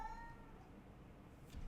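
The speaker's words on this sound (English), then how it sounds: "Do you hear that? That is Rocky's displeasure at having kittens in his house" A displeased cat meows once, faint and far off in a quiet room, as a short rising cry near the start.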